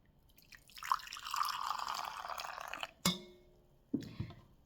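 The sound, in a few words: pouring homemade black coffee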